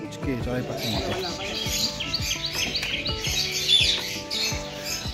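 Small white birds in a tree-lined spot by the Ganga chirp in quick, overlapping bursts. The busy, fairly loud calls sit over a steady bed of other sound and possible voices.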